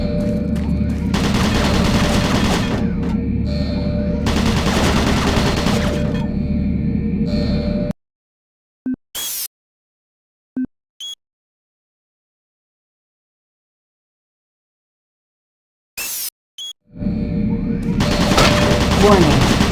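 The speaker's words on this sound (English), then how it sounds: "Warning. Automated turret guns online." Automated turret guns in Doom 3 fire long, loud, sustained volleys of rapid gunfire, break off into near silence broken by a few isolated sharp shots, then open up again in another dense barrage.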